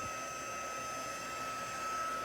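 A handheld heat tool blows hot air over cardstock in a card-making setup, a steady, even whirring hiss with a faint high whine, constant and close, no voices.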